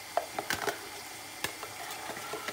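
Onions frying together with tomato paste for Nigerian jollof rice, a soft steady sizzle broken by a few sharp clicks and scrapes of stirring, close by with no talking.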